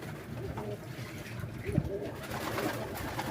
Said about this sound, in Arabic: هيبدأ بقى الحمام اللي هو ينزل كده في المية يستحمى